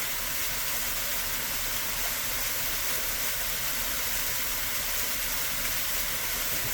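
Mountain waterfall flowing strongly, a steady broad hiss and roar of rushing water that stays constant and even, heard on its own with no voices.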